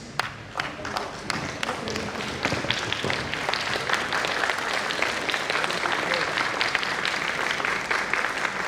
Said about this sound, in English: please give the biggest and the loudest applause to your parents